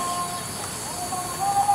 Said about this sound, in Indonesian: Suara beeper kayaknya, ngek-ngek, kirain burung.